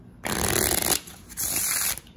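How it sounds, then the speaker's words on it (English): A new deck of crayon-themed playing cards is shuffled by hand. Two quick riffle shuffles, each a crisp fluttering burst under a second long, are heard up close and quiet, with a short pause between them. "Let's, let's give it a shuffle."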